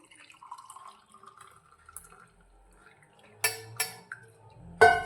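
Boiled water is poured into a glass in a quiet kitchen. Soft faint trickles give way to a few sharp splashing clinks near the end.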